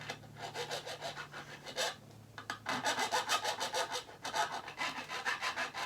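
A smooth file rasps across a wooden fret board on a homemade red vinyl cigar box guitar, in steady back-and-forth strokes that come close and loud, with a brief pause midway and no talking.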